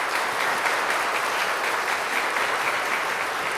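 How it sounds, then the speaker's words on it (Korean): A church congregation at a Sunday service claps in steady, even applause to welcome guests, and the sound continues unbroken at a constant level. "우리 교우분들 마음을 모아서 함께 박수로 환영해 주시면 감사하겠습니다"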